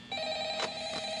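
An electronic telephone ring in Five Nights at Freddy's trills briefly, a bright steady tone with a quick pulse in the middle, fairly faint and alone.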